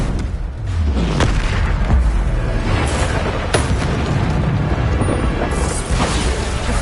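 A Bombarda explosion spell cast in the video game Hogwarts Legacy: heavy, booming blasts with a couple of sharp impacts rising out of a dense, continuous rumble of combat noise.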